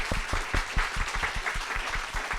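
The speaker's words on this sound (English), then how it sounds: "let's get a round of applause for our amazing guests" Live audience applauding guests at a show in a brew pub, a steady dense wash of clapping with sharp individual claps close by, lasting throughout.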